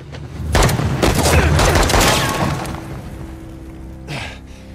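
A rapid volley of loud gunshots in the video game Uncharted: The Lost Legacy cracks out over a couple of seconds, then dies away, followed by one fainter burst.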